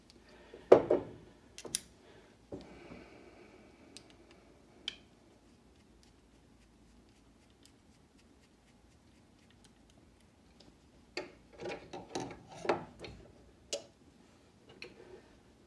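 Small screws being driven into Spyderco Delica 4 knife scales with a driver, heard as scattered soft ticks and clicks in two bursts, close and quiet, with no talking.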